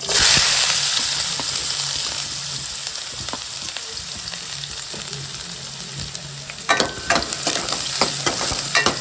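Chopped garlic and onion sizzle loudly in a hot pan, a steady close frying hiss throughout, with stirring clatters and scrapes toward the end.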